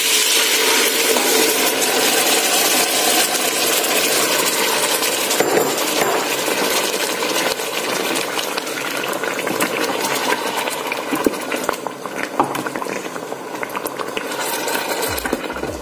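Tomato and condiment sauce simmering in a pot, a steady bubbling and crackling texture that holds for about sixteen seconds, with scattered small pops and ticks and no voices.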